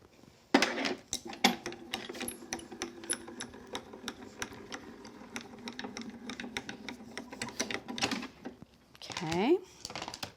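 A hand-cranked die cutting machine feeds cutting plates through with a rapid run of close ratcheting clicks and clacks, and a voice speaks briefly near the end.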